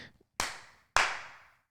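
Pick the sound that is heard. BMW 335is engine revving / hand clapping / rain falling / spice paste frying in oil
hand clapping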